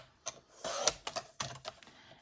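Craft texture paper is cut, with a short sweeping swish followed by several sharp clicks and taps, close and fairly quiet, with no voices.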